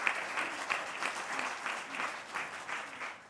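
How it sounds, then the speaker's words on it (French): An audience applauds Brice Teinturier after he presents IPSOS study results: steady, moderately loud clapping from a crowd, with no voices over it. "On l'applaudit, vous avez dit."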